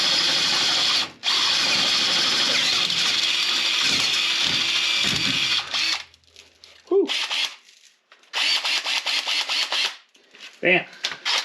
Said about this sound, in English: I'm just going to drill this one hole and get a bolt in it.